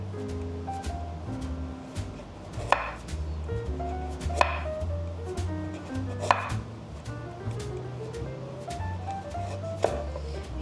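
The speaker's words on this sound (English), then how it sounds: "let's just finish chopping them up" Sharp knife strikes chopping glazed chicken on a cutting board, a few spaced clear chops standing out over steady background music, close and fairly loud.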